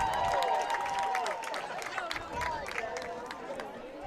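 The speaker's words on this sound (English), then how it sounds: "Fans are applauding his hustle." Fans in the stands at a high school football game applaud with scattered clapping and crowd murmur, with a voice talking over it.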